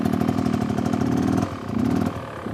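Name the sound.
motorcycle engine revving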